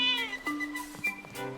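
A cat meows several times in the Zelda game Echoes of Wisdom, a short series of clear, close, whiny mews with no talking over them.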